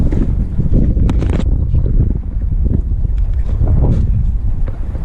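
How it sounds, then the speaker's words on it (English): A Minn Kota 55 Endure C2 electric trolling motor pushing an old Pelican boat across the water on a very windy day, a steady churning rumble mixed with heavy wind buffeting against the microphone throughout. "this is the Minn Kota 55 Endure C2"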